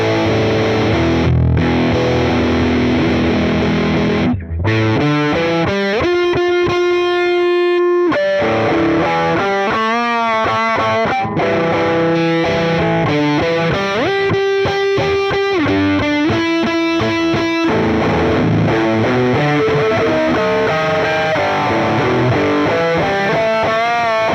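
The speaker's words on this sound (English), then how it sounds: "we're just going to turn on the fuzz on that" An electric guitar played through a fuzz effect on a Quad Cortex gives a thick, overdriven tone. Loud chords and single notes play alone, with brief pauses between phrases.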